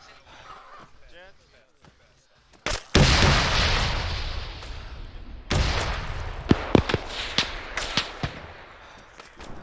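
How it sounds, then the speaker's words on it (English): Heavy artillery blasts and gunfire rumble across a D-Day battle in a video game, with a big impact followed by a long roaring decay and scattered sharp shots, while voices talk over the combat. "Look out for artillery."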